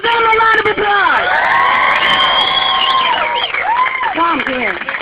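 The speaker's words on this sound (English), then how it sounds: "I want you to give them a round of applause" A rally crowd at a national march cheers and whoops loudly, with clapping mixed into sustained shouting and children's voices.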